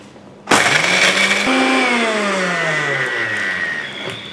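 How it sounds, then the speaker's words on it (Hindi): An electric mixer grinder whirs loudly as it grinds Oreo biscuits in its jar, starting abruptly and running steadily with a pitch that drops and shifts as the biscuits break down, then easing off near the end. "इस तरह के मिक्सी के जार में डालेंगे और इनको हम ग्राइंड कर लेंगे"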